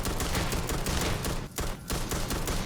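An Old Earth pistol in Starfield fires in rapid succession, loud close shots packed into quick bursts with a brief pause partway through and no voices.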